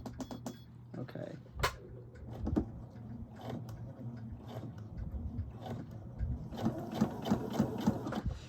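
A sewing machine running a long baste stitch through velvet, its motor whirring in bursts that speed up toward the end, close but fairly quiet, with someone talking over it at times.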